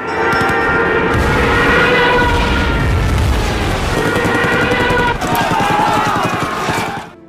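War-film battle scene with enemy planes strafing and bombing soldiers: dense, loud gunfire and explosions roar continuously, with shouting voices mixed into the chaos before it cuts off.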